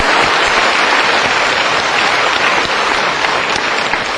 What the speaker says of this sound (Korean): 박수를 치려면 화끈하게 쳐보셔봐.